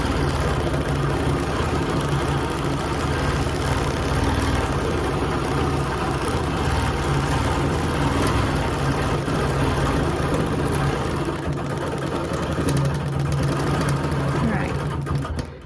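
A sewing machine free-motion quilting a Dresden quilt hums in a continuous, steady motor drone throughout, close and fairly loud, with no clear talk over it.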